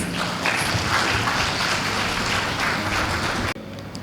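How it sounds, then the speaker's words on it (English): Dense, steady applause from a conference audience welcoming a speaker at the New Earth Summit in Goa, filling the room for about three and a half seconds before cutting off abruptly. "So let's all welcome Darryl on stage with a big applause."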